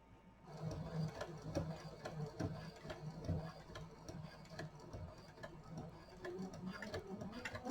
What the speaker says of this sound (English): I'm top stitching